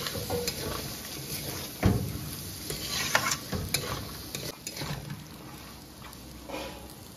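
Lentils sautéed with a splash of water in a pan for mutton keema tadka, a soft sizzle under irregular scraping stirs and a few sharper utensil knocks, close and moderately quiet, no talking.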